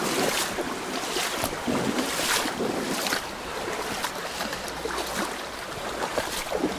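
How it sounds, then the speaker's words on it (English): Outdoor walk along a river at Cooildharry on the Isle of Man, with steady rushing water, gusting wind buffeting the microphone and scattered crunching steps, heard alone without talk. "It's a river walk and it's not as easy as I thought."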